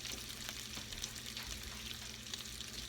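Sausages sliding into a pan alongside bacon and sizzling, a dense continuous frying hiss with soft crackles, close and steady.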